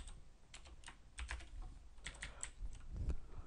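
Keys clatter on a new computer keyboard in a quiet room, irregular clusters of close, crisp taps with brief pauses between bursts, no voices.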